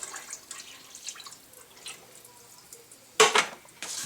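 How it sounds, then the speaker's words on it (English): Water being added to a cooking pot for tomato sauce and meatballs, heard as soft dripping and trickling, then a brief louder splash near the end. "I'm going to add that water to the pot"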